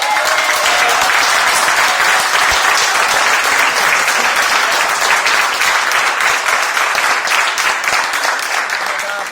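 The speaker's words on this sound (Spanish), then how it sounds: "Un aplauso a los organizadores de la trobada." A crowd at an Aragonese-language gathering in Panticosa applauds the organizers, loud, dense and sustained clapping that fills the space without pause and fades only slightly near the end.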